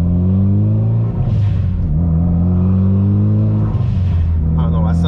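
Engine note of a 2016 Mitsubishi Evolution X Final Edition, a steady deep drone that rises and falls in revs, close and loud throughout, with people talking over it.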